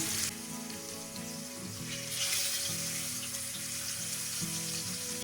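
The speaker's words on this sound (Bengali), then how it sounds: "এবারে একটা একটা করে মাছ তেলের মধ্যে ছেড়ে দেবো ভাজার জন্য" Fish pieces frying in hot oil for a Bengali macher jhol give a steady, close sizzle and crackle that runs unbroken, with no voices.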